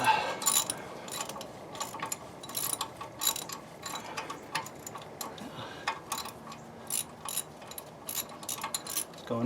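A ratchet with a 3/8 inch Allen bit tightens the hub assembly bolt on a 1997 Dodge Ram, giving rapid, close clicking in uneven bursts with brief pauses between them.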